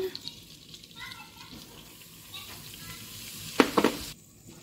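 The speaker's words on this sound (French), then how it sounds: "On mélange bien, très vite pour que la farine ne brûle pas." Flour being stirred quickly into melted butter in a pan for béchamel sauce, giving a soft sizzle with a few sharper scrapes near the end and faint voices in the background.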